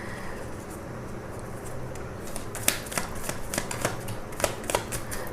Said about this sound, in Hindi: चलिए शफल करती हूँ, आप अपने सवाल पे गौर करिए।